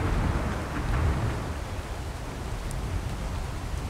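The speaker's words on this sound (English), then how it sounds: "how's it rain inside a cave?" Steady rain falling inside a cave in the video game ARK, an even hiss with no other sounds standing out.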